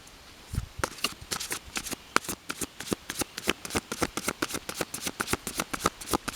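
Oracle cards being shuffled by hand, a rapid run of crisp papery riffles and flicks in a steady rhythm, close and clear with no talking.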